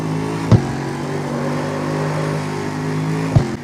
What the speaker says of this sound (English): You feel like you're in the M3 GTR because of the engine sound